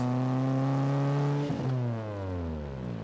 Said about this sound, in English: The exhaust sounds really good, and it's pretty loud